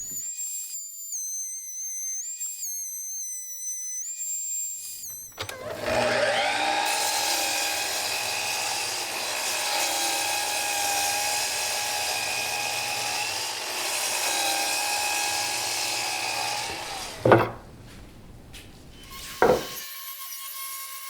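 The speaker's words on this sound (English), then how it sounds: "So I've got to plane these down just a little bit." White oak boards for swing seats are fed through a power planer, which roars steadily for about eleven seconds after a few seconds of high whistling tones, then stops with a couple of sharp knocks.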